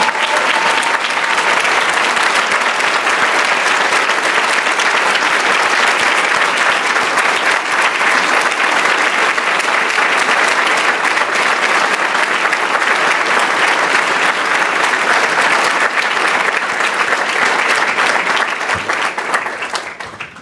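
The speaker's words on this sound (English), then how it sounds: "let's give them a huge round of applause" Large audience applauding for young men from a Chicago CRED program at a public talk, sustained dense clapping throughout, loud and steady before tapering at the very end.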